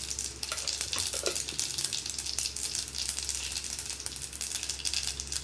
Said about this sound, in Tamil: தாளிச்சுக்கலாம். கொஞ்சமாக கடுகு,